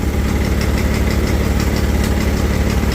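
A Gravely engine with a clogged idle circuit runs roughly at idle, a loud, steady, close-up drone with a faint uneven knock throughout.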